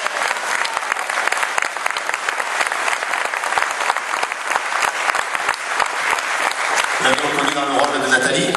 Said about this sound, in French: Comment d'applaudir le plateau de la danse, s'il vous plaît.